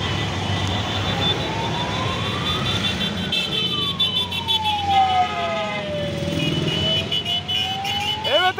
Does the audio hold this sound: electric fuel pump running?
no